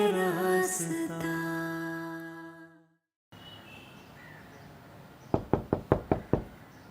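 Six sharp knocks on a door come in a quick, evenly spaced run near the end, after a stretch of music and a brief silence.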